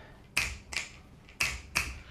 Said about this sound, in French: les bruits de claquements de doigts